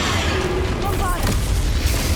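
A Bombarda spell explosion in the video game Hogwarts Legacy sounds as a deep, rumbling boom that spreads across the whole clip, with a voice talking over it.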